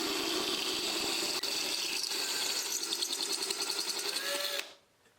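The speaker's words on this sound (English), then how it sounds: "with pressure pushing the bit into the V, start to drill." A steady, high-pitched whirring drill grinds continuously against a glass jar, cutting an angled hole, for several seconds, then cuts off abruptly into near silence.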